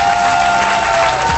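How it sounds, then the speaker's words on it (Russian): Studio audience applause on the Russian TV quiz show Power of 10 (Магия десяти): a dense, steady wash of clapping that fills the whole short moment at a loud, even level, with a thin sustained tone running underneath. "Можем сделать бурю аплодисментов по поводу вашей игры."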